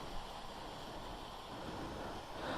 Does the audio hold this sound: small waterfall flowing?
yes